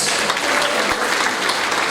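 A church congregation at an Ascension worship service claps for Jesus in a loud, dense, sustained wave of applause, with no talking over it.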